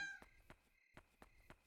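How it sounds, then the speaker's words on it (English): In the video game Yomawari: Night Alone, a cat gives one short, clear meow at the start, followed by soft, evenly spaced footstep-like taps. "Cat!"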